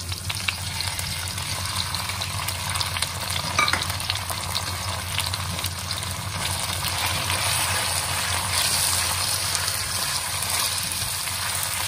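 Chicken breast stir-frying with mixed vegetables in a hot pan gives a continuous loud sizzle and crackle with occasional scraping stirs, and no one speaks.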